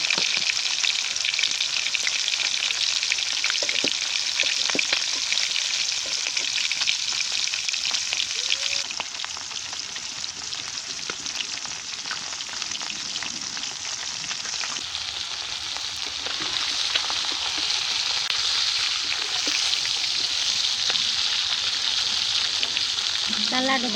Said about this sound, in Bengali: তেলটা তাইতে এসে মাছের কাল্লাটা দিয়ে দেবো। এদিকে ভেজে নিই